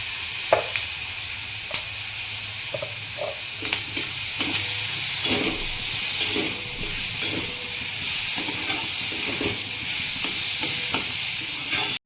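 Tomatoes sizzle and hiss in a hot frying pan for a mixed vegetable bhaji with capsicum and potato, a continuous frying sound broken by repeated scraping stirs of a spoon.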